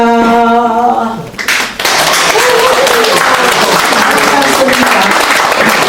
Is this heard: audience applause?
yes